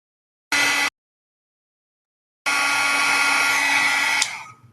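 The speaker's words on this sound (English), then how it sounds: "So I'm drying the paint with the heat gun. It sounds like a blow dryer, but it is hotter." Heat gun blowing hot air to dry paint, a steady whooshing roar like a hair dryer: one short burst, a pause, then a longer continuous run that winds down at the end.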